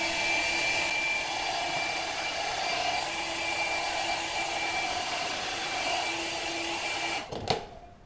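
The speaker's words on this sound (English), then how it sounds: "We're going to work with the blow dryer again and make this wax melt" A blow dryer melting wax on a football blows with a steady, loud whirring hum throughout and cuts off abruptly with a click near the end.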